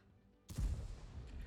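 A tank in the World of Tanks video game fires a high-explosive round: one sudden, heavy boom after a quiet moment, followed by a rumbling decay.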